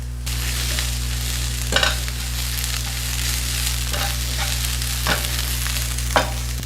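Chopped ginger, garlic and green chili frying in oil for tawa chicken, a dense continuous sizzle over a steady low hum, with a few louder stirring scrapes, close and unbroken by speech.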